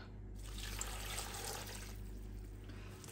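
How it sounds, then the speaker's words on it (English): Stock pours into a slow cooker in a steady liquid gush lasting a few seconds, close and moderately quiet, with no talk over it. "let's add in the stock"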